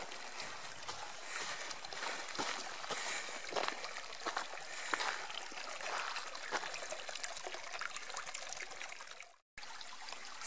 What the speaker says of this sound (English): You can hear the running water